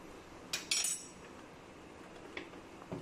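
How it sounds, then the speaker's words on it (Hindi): Metal spoon clinks against a glass while two spoonfuls of sugar go into iced chocolate cold coffee, a couple of bright taps followed by a few fainter clinks in a quiet kitchen. "इसमें डालूँगी मैं 2 चम्मच चीनी"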